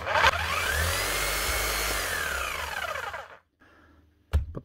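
A 2021 Bosch GBH 5-40 DCE rotary hammer runs with a steady loud motor whine and no hammering action, then spins down and stops, followed by a brief knock.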